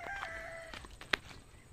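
Chickens in a farm range area. A faint drawn-out call comes first, then a short sharp squawk, over quiet outdoor background.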